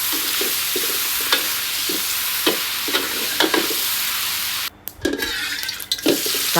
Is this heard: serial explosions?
no